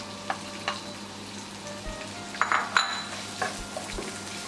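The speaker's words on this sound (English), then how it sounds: "let this saute for about 2 minutes until the onions becomes very soft" Onions and green chili sauté in oil with cumin seeds on medium heat, a steady close sizzle broken by a few clinks and scrapes of a stirring utensil against the pan.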